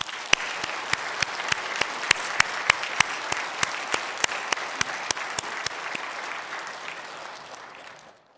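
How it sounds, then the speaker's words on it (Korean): A church congregation in a Korean worship service claps together to welcome guests. The sharp claps land in a fast, even rhythm, loud and steady for about eight seconds, then stop. No one speaks over them. "박수로 환영하겠습니다."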